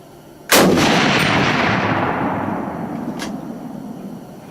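A single loud, close gunshot from a hunter firing at a buck, a sharp crack followed by a long rolling echo that fades over several seconds, with a fainter second report near the end.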